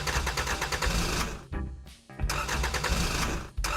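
An engine sputters and runs unevenly. It cuts out briefly, catches again, drops once more and picks back up, stalling intermittently at close range with no talk over it.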